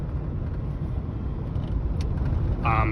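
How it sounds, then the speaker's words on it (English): Low rumbling road noise inside the cab of a moving 1996 Chevrolet S10 pickup, with a constant engine drone and faint rattles, and a brief squeak near the end. "As you may or may not be able to hear, it is very rattly in here"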